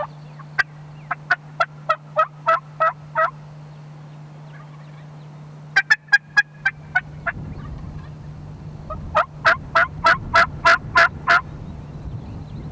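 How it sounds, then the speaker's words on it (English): Wild turkeys gobble during a spring hunt, several rapid rattling bursts from birds around the listener, some close and loud and others farther off, over a low steady hum. "We got birds gobbling all around us."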